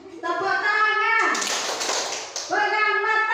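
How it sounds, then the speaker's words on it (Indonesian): A room full of people claps together in a burst of dense applause lasting about a second, set between stretches of a child-like voice speaking loudly and near. "Tepuk tangan."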